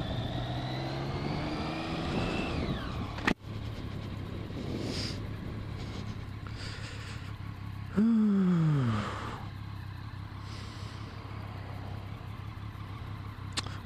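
A motorcycle engine pulls away in gear at a drive-thru, with a rising then falling rev sweep, a sharp click, and a second strong rev around the middle that fades into a steady nearby rumble.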